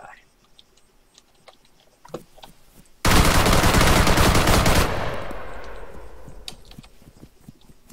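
Sustained automatic gunfire in an Arma 3 deathmatch, a loud dense burst of rapid shots lasting a couple of seconds and then trailing off into echo, amid scattered clicks and distant pops before and after.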